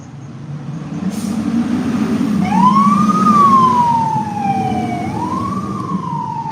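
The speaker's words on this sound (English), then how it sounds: "Oh, that's a fire truck." A fire truck siren wails past outdoors in the Miami-Dade area, its pitch rising and falling over a low rumbling engine and traffic noise, growing louder then easing off.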